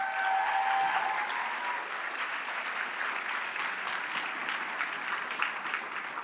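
Sustained applause from a convention audience for a cosplay performer at a cosplay performance contest, a steady dense wash of clapping heard from within the crowd, even in level for several seconds.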